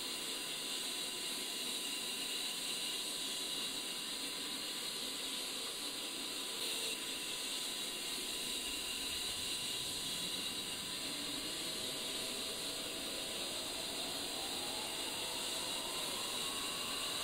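An A-10C Warthog jet engine spooling up during startup in a flight simulator game, a steady broadband hiss and whine with a faint rising tone building slowly and evenly over the whole stretch.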